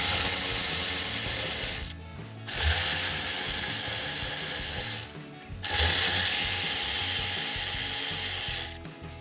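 Ratchet wrench loosening 5.5mm screws beneath the steering column shroud of a 2011-2014 Ford F-150, with three bursts of rapid, close clicking separated by short pauses.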